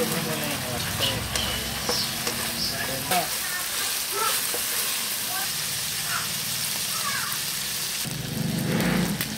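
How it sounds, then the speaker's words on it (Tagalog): Chicken sautés in a hot pan, a steady loud sizzle and hiss with bursts of stirring and clatter throughout, while a voice talks over it at times. "Gisa ko muna yung chicken."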